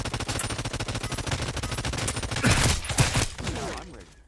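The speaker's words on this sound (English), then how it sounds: "they're already shooting at us" Rapid gunfire in the online battle royale game Realm Royale: loud, dense bursts of automatic shots in a fast rhythm, building into heavier impacts near the end before fading.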